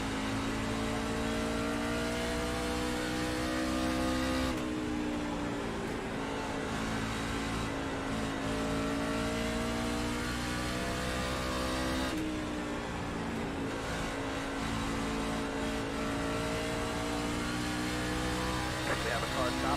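A NASCAR race car engine at Bristol in a racing video game drones loudly and continuously, its pitch dipping and rising as the car laps, with occasional shifts in tone.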